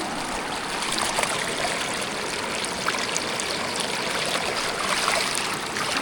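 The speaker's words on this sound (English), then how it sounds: "we got some more rapids to shoot" River rapids on the Devils River rush and gurgle in a constant close wash of moving water, with small splashes and trickles rising out of the steady flow and no voices over it.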